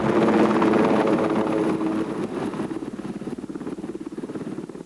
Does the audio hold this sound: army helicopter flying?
yes